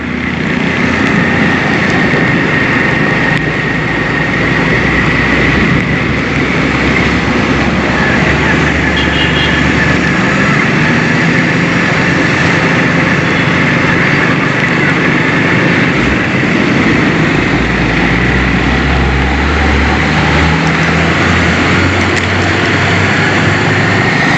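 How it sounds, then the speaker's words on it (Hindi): A motorcycle rides through heavy rain, its steady engine drone blending with a continuous loud wash of rain and wind noise throughout. "बारिश हो रही है थोड़ी सी तेज़। अब चलानी है हमने मोटरसाइकिल एहतियात से।"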